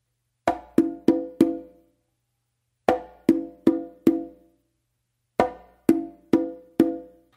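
Conga drum tumbao in modern Patato style: three separate phrases of four sharp, ringing hand strokes each, close and clear, with silence between phrases and no talking.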